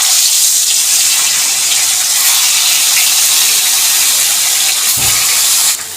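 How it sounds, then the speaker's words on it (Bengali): Bhola fish frying in hot oil, a loud, continuous bright sizzle and hiss from close by, with a brief low clunk near the end. "এখন আমি এক এক করে মাছগুলি ভেজে নেব।"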